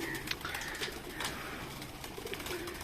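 Pigeons kept by a hobbyist coo and call from a rooftop loft, soft repeated low coos over a steady outdoor hiss, fairly close, with no talking.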